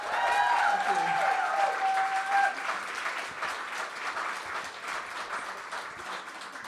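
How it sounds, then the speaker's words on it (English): An audience applauds a championship-winning university team and coach brought on stage, loud dense clapping that starts at full strength and slowly tapers, with a voice briefly audible over it at the start. "round of applause, guys"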